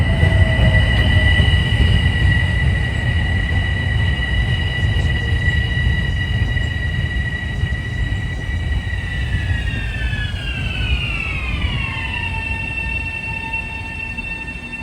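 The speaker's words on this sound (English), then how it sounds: "Here's a Brewster-bound train," A Brewster-bound commuter train on the Harlem line rumbles steadily past at close range, with a loud continuous roar and bright wheel squeal tones that bend downward as it moves on.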